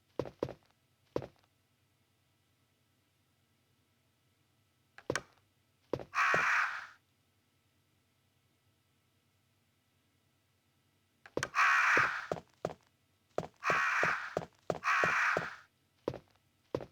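Crows cawing in the video game Resident Evil, several harsh caws in clusters separated by quiet gaps, mixed with soft thuds and footsteps, with no talking.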